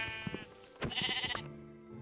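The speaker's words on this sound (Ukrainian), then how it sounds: "Якраз дві вівці." Minecraft sheep bleat in short, wavering cries, two or three quick calls close together, quiet and alone in the game's sound.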